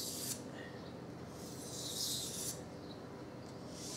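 A knife blade is sharpened on a whetstone with steady, soft scraping strokes, a continuous faint rasping that swells and eases with each pass.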